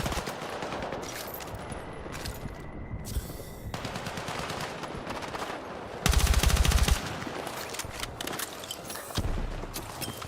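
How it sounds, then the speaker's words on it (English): Call of Duty gunplay with rapid repeated firing throughout, including a loud heavy burst of shotgun blasts near the middle and another strong volley toward the end, with no talking. "here's a shotgun"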